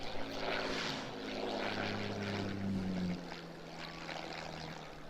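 A propeller-driven military transport aircraft drones past overhead, its engines holding a steady hum that rises and then drops away as it passes, with no speech.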